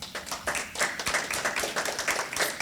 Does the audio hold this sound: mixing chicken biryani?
no